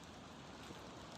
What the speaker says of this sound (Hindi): अब तो ऐसे भी रखना पड़ेगा, तो बारिश ही शुरू हो गई है।